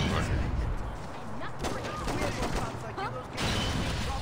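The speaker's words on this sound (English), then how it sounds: "I didn't mean to shoot." Rapid gunfire in the video game Saints Row 2, a dense continuous volley of shots over game noise, loud and close, with voices talking over it.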